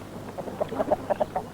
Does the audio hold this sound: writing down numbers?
no